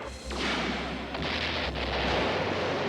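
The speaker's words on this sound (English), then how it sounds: "The Rulons worked out some way to power the particle beam cannon!" A particle beam cannon in a 1988 Dino-Riders cartoon fires with a sustained, roaring blast. Rumbling explosions and booming surges follow close together and loud throughout.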